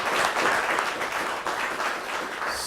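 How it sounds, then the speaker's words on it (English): An audience at a discussion session gives the speakers a round of applause, a dense, steady clapping that fills the room from start to finish, with no voices standing out. "maybe we can give the speakers a round of applause"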